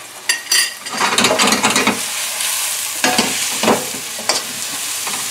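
Garlic and ginger sizzle and crackle in a hot pan, with scraping and stirring clatter throughout.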